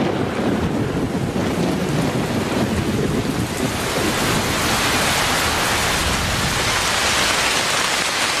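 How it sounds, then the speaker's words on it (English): Heavy rain pours down in the Amazon rainforest during the wet season, a dense, steady broadband roar of water that stays loud and unbroken throughout with no voices. "By the end of December, the rains have arrived with full force."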